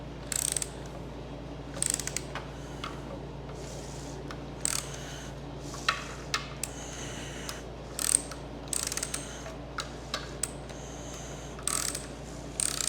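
A socket wrench loosening the bolts on a 4L60E transmission pan, done by hand. Quick ratcheting clicks come in short bursts with pauses, close and fairly quiet, over a steady low hum and with no talking.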